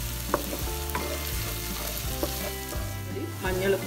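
Turmeric, ground black pepper, Kashmiri chilli powder, fenugreek powder and mango powder fry in oil in a pan for Thalassery-style chilli chicken, a steady close sizzle with the scrape of stirring throughout and no voices.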